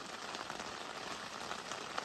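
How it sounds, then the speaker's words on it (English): Steady rain patters on surfaces at a desert campsite, a dense, even hiss of drops with occasional louder taps, fairly close and constant. "As you can see, or as you can hear, it's raining."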